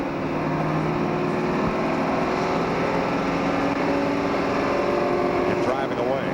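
A race car drives away after a crash at Talladega during the 2004 Aaron's 312, steady engine drone from several cars under crowd and track noise throughout.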